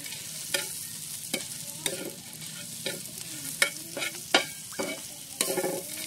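Crushed roasted peanuts stirred in a pan over a wood-fired chulha for shengdana chutney: loud, close spatula scrapes at irregular intervals over a continuous frying sizzle.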